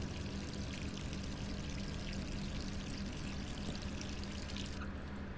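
Steady running water from a faucet in the video game Resident Evil 3, a constant pouring hiss that stays fairly quiet and unbroken throughout, with no talk over it.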